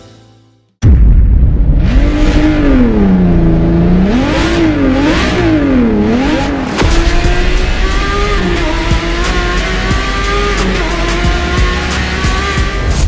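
A Lamborghini Murciélago V12 supercar engine revs loudly in repeated rising and falling sweeps, then holds a steady high-pitched roar with no one speaking.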